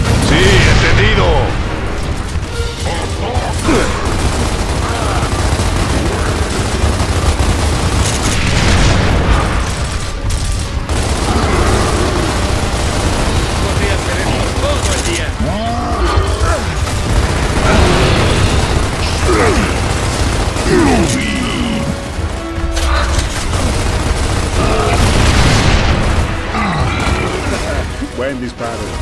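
Gunfire and explosions in the video game Gears of War, loud bursts and booms recurring throughout a chaotic battle, with voices shouting over the mechanical clatter.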